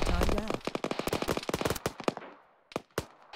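Rapid bursts of gunfire in the military shooter game Arma 3, a dense string of sharp shots that thins out, followed by two more isolated cracks after a short lull.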